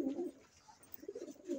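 Soft, low coos from racing pigeons repeat a few times, close by and fairly quiet, with brief gaps between the calls.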